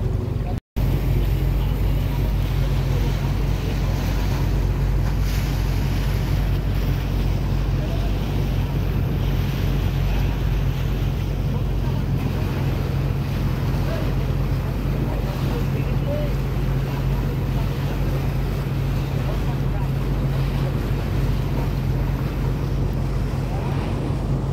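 Steady low rumble of ship engines and lapping water at Mongla port, a busy cargo harbour, with wind buffeting the microphone throughout and no clear voices.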